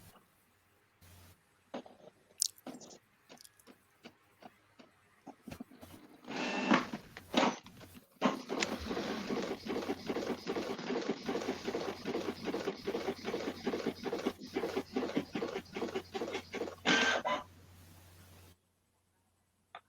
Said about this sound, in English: that was my printer